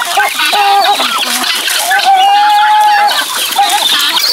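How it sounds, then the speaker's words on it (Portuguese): A rooster and helmeted guineafowl hybrid clucks loudly and close in a continuous run of rhythmic calls, with a few higher squawks mixed in. "Essa é a galinhola, hein? Mistura de galo com galinha da Angola."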